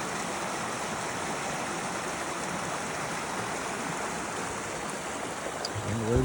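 Stream water flowing steadily along the Appalachian Trail, a continuous broadband rush that stays even and close throughout, with a brief low rumble near the end.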